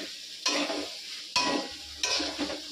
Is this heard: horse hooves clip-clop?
no